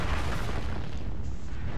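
A broad rumbling blast from an incoming missile explosion in MechWarrior Online, one loud, dense boom filling the short moment with low, noisy energy that slowly thins.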